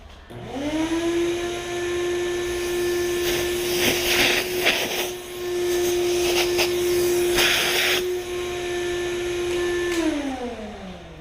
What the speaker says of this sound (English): I'm gonna clean that as well, but let me vacuum that.